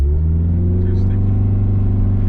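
A 1989 Honda Civic RT4WD wagon engine held at high revs against the fuel cut, a loud, steady droning growl with strong low harmonics close by, the limiter faintly stuttering midway.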